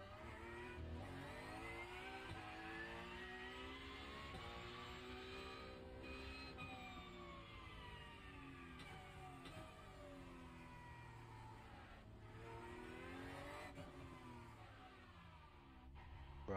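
A race car in the iRacing sim drives with a sustained engine drone whose pitch rises and falls through gear changes. The sound stays steady, loud and close throughout, with no voices.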